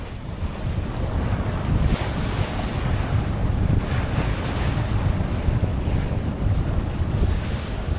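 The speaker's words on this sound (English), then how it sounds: "we battle the waves and the wind direction" Ocean waves wash and wind buffets steadily around a sailboat at sea on a passage toward Tongatapu, a continuous loud roar of surf and gusting wind noise with no pauses.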